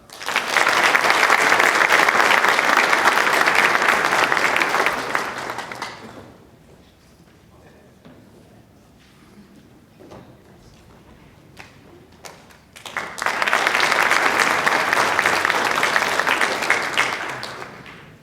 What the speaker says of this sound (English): okay, so applause for it